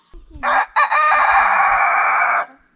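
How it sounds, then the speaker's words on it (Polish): A silkie rooster crows once, loud and close, a long sustained call of about two seconds after a brief hiccup at the start. "To są kury jedwabiste."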